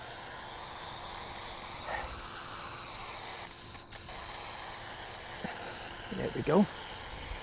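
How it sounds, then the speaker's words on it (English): Airbrush spraying red paint onto an abstract painting gives a steady, close hiss that runs through the whole stretch, with a brief dip partway and a few quick spoken words near the end. "I'm going to do a little bit more airbrushing with red this time."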